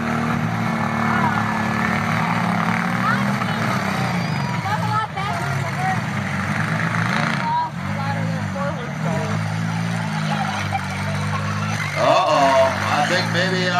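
A minivan engine idles at a demolition derby, a steady low rumble running throughout while people talk over it and crowd noise fills the background.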